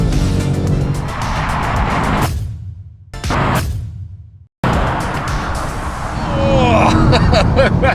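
Performance sedans, a BMW M5, Audi RS7 and AMG E63 S, drag racing, with loud engine roar and tire noise sweeping past. There are two sharp cutouts midway, and excited voices talk over the cars.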